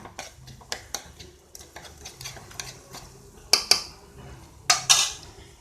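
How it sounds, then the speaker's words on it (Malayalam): Ingredients are mixed together in a pan with a utensil, producing irregular clinks and scrapes of metal on cookware, a few sharper knocks standing out, close and with no talking. "ഇനി നമുക്കിതെല്ലാം കൂടെ മിക്സ് ചെയ്ത് കൊടുക്കാം"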